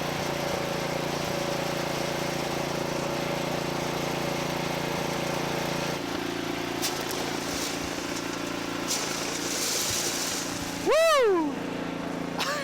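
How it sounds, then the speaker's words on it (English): A road sander jams but keeps running with a steady mechanical drone and engine hum. A sharp tonal sweep rises briefly near the end. "I think that the sander just jammed"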